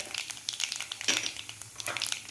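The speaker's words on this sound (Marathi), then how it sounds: "तेल आपलं गरम झालेलं आहे यामध्ये घालायची आपल्याला मोहरी मोहरी आपल्याला व्यवस्थित फुलू द्यायची आहे" Mustard seeds, cumin and turmeric sizzle in hot oil, giving soft, faint crackling with scattered small pops and spits, heard alone.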